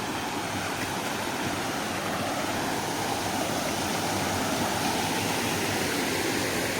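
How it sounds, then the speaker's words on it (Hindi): Water pours in a steady, dense roar, a constant loud rush from the nearby, very high Godhas waterfall in Nuapada, Odisha, with no voices or breaks. "ये है वो सेकंड वाटरफॉल।"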